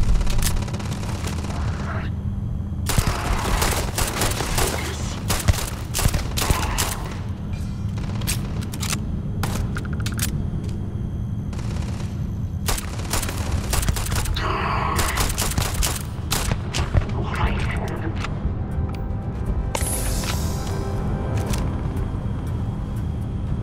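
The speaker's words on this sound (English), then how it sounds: "this is a very intense gunfight" An intense Starfield gunfight with rapid, repeated gunfire and sharp bursts of shots over a steady rumbling background, dense and loud throughout.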